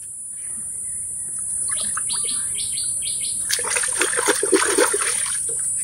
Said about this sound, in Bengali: আমি এখন কালমেঘ পাতা ধুই।